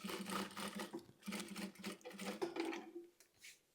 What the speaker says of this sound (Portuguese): vou passar uma costurinha aqui bem na bordinha.